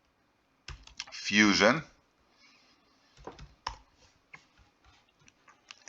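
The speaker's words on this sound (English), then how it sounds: "let's see what happens if I type in Beyblade Metal" Keys clatter on a computer keyboard as a search for metal Beyblades is typed into eBay: a scatter of light, uneven clicks in short runs, close by, following a brief spoken word.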